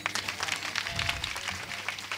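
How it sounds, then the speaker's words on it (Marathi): An audience at a Marathi kirtan performance claps dense and steady in a continuous burst of applause for the musicians, filling the clip without a clear voice on top. "सगळ्यात पहिले पकवाद्यासाठी टाळ्या वाजवा."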